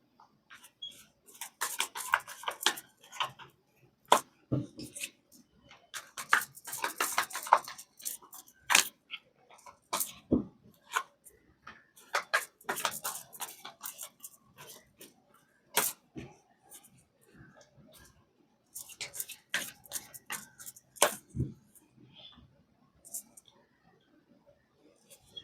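Tarot cards shuffled by hand during a reading, giving bursts of quick papery riffling and clicking, loud and close, in several spells separated by pauses, with no talk over them.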